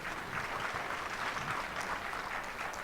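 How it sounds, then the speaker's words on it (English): Audience applause at a national council meeting on communication and digital economy in Oyo State, Nigeria, a continuous, moderately distant clatter of many hands with no speech over it. "Clap more for our hosts."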